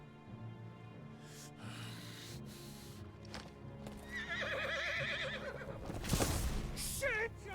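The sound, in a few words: horse neighing in video game Final Fantasy XVI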